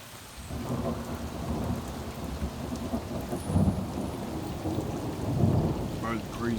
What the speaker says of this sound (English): Probably the craziest thunderstorm in 2020.